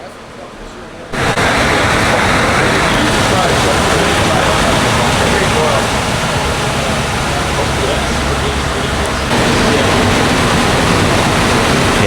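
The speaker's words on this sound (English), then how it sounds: "Yeah, it did ramp up good." A turbocharged Chevrolet Silverado pickup roars on a dyno at a loud, steady full-load pitch, cutting in abruptly after a quieter first second and holding unbroken to the end.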